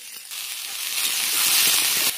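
Black cumin and green chillies frying in a wok, a steady close sizzle and hiss that rises slightly and holds through the clip, cutting off briefly near the end.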